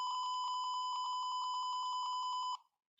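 A steady electronic alarm beeps rapidly and continuously at a high pitch, loud and close, then cuts off abruptly near the end.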